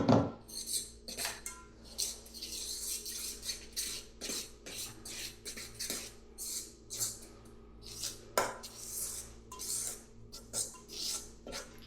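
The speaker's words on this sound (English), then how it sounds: "And then mix again." Food is mixed in a bowl, and the utensil scrapes and clinks against it in quick irregular strokes. The sound is close and moderate with short louder knocks and no talk over it.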